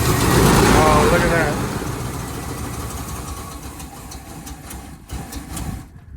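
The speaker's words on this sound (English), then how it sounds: "It sounds like it has a exhaust leak though somewhere." An old Ford OBS truck engine running with an exhaust leak, a loud rough idle with a ticking, pulsing exhaust note near the microphone, a voice briefly over it early on, fading toward the end.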